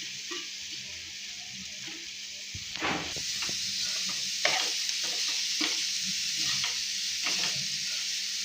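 Curry simmers and sizzles in a pan on the stove, a steady close hiss with soft stirring scrapes and occasional clinks throughout, no talking.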